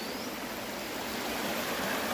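Steady broadband rush of a stream flowing through a forest, continuous and fairly close, with no voices over it.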